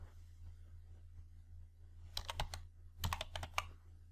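Computer keyboard typing into an Excel spreadsheet in quiet clusters of crisp key clicks, a few keys then a pause then a faster run, close but faint over a low hum.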